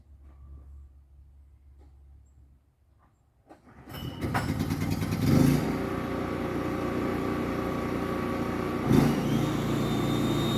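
A generator engine for a pressure washer setup starts up after a few quiet seconds and settles into a loud, steady running drone, with a couple of brief surges as the load shifts.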